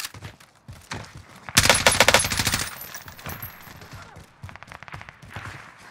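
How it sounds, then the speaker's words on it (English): Bursts of rapid gunfire from an MP7 on Rebirth Island erupt and rattle for a couple of seconds, then trail into scattered shots and footsteps, with game-like effects and faint voices around. "Run towards the gunshots."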